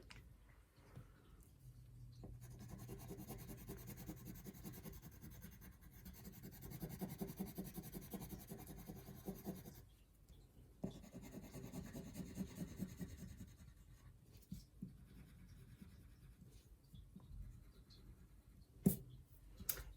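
A purple crayon colouring on paper, held lightly, making soft, close scratchy strokes in bursts separated by short pauses, with no talking.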